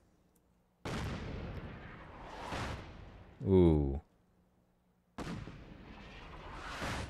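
Artillery strikes in Fallout 4 land as two loud, rumbling explosions several seconds apart, each a booming burst that trails off slowly, with a brief spoken exclamation between them.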